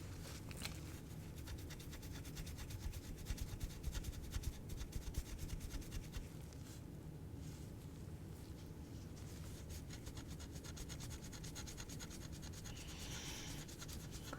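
Continuous quiet rubbing and scratching as a badminton racket handle is polished after old grip tape is scraped off, steady and close with brief rhythmic strokes.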